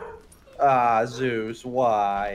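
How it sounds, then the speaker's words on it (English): A pet dog named Zeus barks and whimpers in high yelping bursts close by, while a person speaks over it. "Oh, that's a dog."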